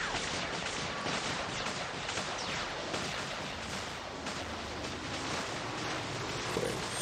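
Robot gunfire in the video game War Robots, a dense and steady barrage of shots and blasts that runs on without a break at moderate, even loudness, with no one talking.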